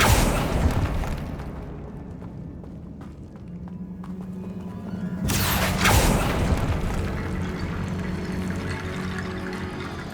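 Bombarda spell explosion in Hogwarts Legacy, one sharp blast roughly halfway through that sends up a bright crackling burst, with rumbling game ambience before it and a lingering low hum and debris noise after.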